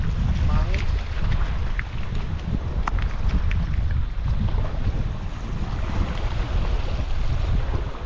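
Strong wind buffets a fishing boat at sea, a constant low roar of gusts and microphone rumble with faint splashes and brief sounds scattered over it.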